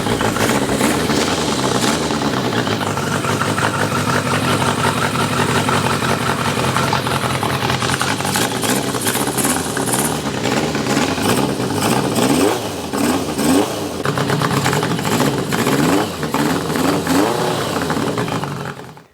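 A motorcycle engine catches and keeps running with a loud, close, steady idle, with blips of throttle midway through, until it cuts out at the very end, and no one speaks over it.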